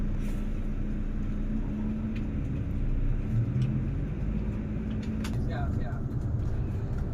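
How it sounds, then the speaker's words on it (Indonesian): Inside a Ramayana E3 series intercity bus with an Adiputro body on the road, a steady low engine and road rumble fills the cabin while people talk over it. "Bus ini bus Ramayana dengan seri E3, nomor lambung 130, menggunakan bodi garapan dari Adiputro"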